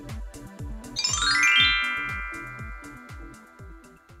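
Bright notification bell ding sound effect, a ringing chime that rises in a quick glissando and then decays slowly over several seconds, layered over a steady rhythmic beat of backing music.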